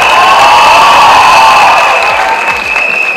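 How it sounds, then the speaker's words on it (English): A crowd of students at a school event claps and cheers loudly and close by, a dense continuous wash of applause that eases slightly toward the end. "A big round of applause for this very well doing Delhi"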